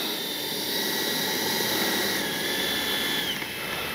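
A Freewing MiG-29 RC model jet with KM model turbine engines runs at a loud, constant roar, with a high steady whine riding over the rushing exhaust.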